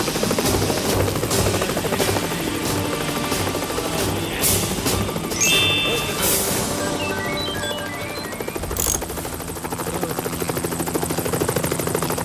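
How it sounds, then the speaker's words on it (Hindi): A battered, patched-together cartoon helicopter flies with a loud, steady rotor chop and engine whir, punctuated by clanks and whooshing comic effects. "मिस्टर चंपू ने अपने टूटे फूटे हेलीकॉप्टर को जोड़ तोड़ के उड़ने वाला बना ही लिया"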